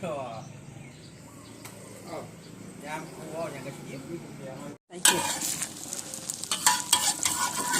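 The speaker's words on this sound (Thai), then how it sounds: "อันนี้ทอดไข่ใส่เห็ดด้วยจ้ะ" Egg with mushrooms frying in a pan hisses and sizzles, growing louder and brighter after a brief cut, with stirring scrapes; a voice talks over the first part and insects chirp faintly outdoors.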